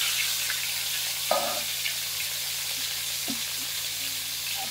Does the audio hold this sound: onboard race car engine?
no